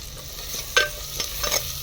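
Onion sautéing with ginger-garlic paste and green garlic on a desi chulha, a soft steady sizzle broken by a few quick stirring scrapes, close and quiet with no voices.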